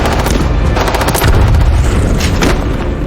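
A film shootout between a man and a gang's henchmen inside a factory, with dense, continuous bursts of gunfire and heavy booming blasts running loud through the whole stretch.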